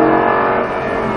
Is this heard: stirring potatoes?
no